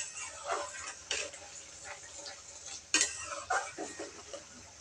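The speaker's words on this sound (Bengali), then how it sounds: "ভালো করে মশলাটা আমি কষিয়ে নিব।" Masala with salt and a little sugar being fried and stirred in a pan, with a spoon repeatedly scraping and clinking against the metal over a faint sizzle, close and quiet, without speech.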